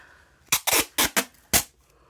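Several sharp ripping bursts of tape being pulled from a roll, five quick tears in close succession, near and fairly crisp against a quiet background.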